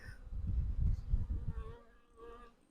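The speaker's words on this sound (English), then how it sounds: "you gotta shake the bees, just to piss them off a little bit" Honey bees shaken off a frame while setting up a queen mating nuc buzz in a close, dense swarm, the droning swelling and fading over a few seconds.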